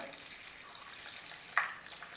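Cold water with ice is poured faintly over homemade butter to wash it: a quiet hissing trickle with one brief splash near the end.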